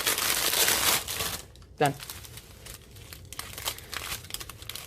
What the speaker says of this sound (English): if you don't like the crinkling noise, sorry guys